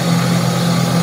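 A 400-watt brushless motor on an allsome BG 516809 drill press runs at its top speed of 2630 rpm, giving a steady, loud, close-up hum with a firm low drone and no variation across one second.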